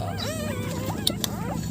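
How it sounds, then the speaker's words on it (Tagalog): Newborn puppies whimper and yip in thin, rising cries near their mother dog at a rural countryside home, several overlapping high whines close by, with no talk. "Ayun yung mga aso. Bagong panganak siya."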